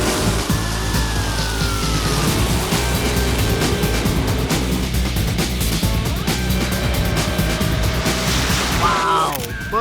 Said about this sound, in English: In the second race, Bud Tharp's Corvette clashes with Mitch Mika's Camaro.